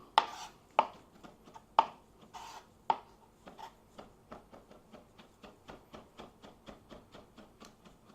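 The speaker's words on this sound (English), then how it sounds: "So now that I've got this parsley chopped up" Parsley finely chopped with a knife on a board: a few heavy, spaced strikes followed by a quick, steady rhythm of lighter chops, close up and alone.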